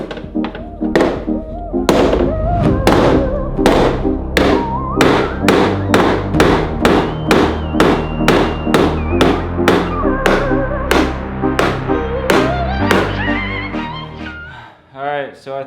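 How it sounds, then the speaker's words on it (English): Hammer striking a sheet metal firewall in an RB25DET-swapped 240SX engine bay, a steady series of about two dozen loud, ringing metallic blows in a regular rhythm, close up. "for right now, we just gotta use the old hammer"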